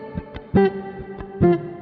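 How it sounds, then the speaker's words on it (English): Direct-in recorded electric guitar with reverb effect, playing a few plucked notes and chords in a loose rhythm, each ringing with a smooth reverberant tail, clear and up front with no talk. "I slap on a little reverb and"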